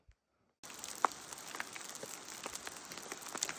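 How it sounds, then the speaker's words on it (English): Hail falls on a mountain pass along the John Muir Trail, starting abruptly as a dense patter of sharp ice ticks and taps, steady and close. "Hailing."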